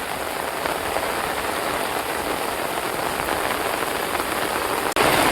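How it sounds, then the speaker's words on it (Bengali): Heavy monsoon rain pours down on a Sundarbans village, a dense, loud, unbroken hiss of drops pounding surfaces that cuts out for an instant near the end before resuming. "প্রচণ্ড বৃষ্টি হচ্ছে।"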